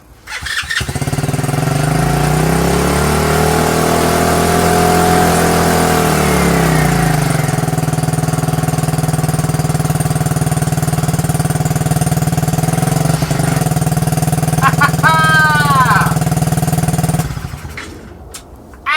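A 90cc TaoTao ATV engine catches on its first start and settles into a loud, steady high idle with a whiny tone, revving briefly before cutting off near the end.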